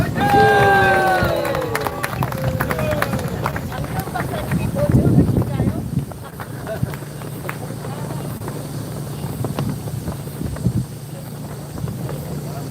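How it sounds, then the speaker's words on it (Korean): At an outdoor election-fraud protest rally, a crowd cheers and claps. A few whistles ring out early, and loose applause follows under an ongoing babble of voices and wind, with the crowd noise swelling midway before settling. "이분들을 위해서 뜨거운 박수로 부탁드리겠습니다."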